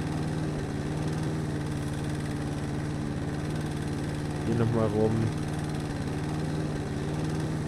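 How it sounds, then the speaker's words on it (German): A lawn mower in the video game House Flipper drones steadily and evenly throughout, a close, continuous engine hum while someone speaks briefly over it. "Weil der Rasenmäher so schnell arbeitet."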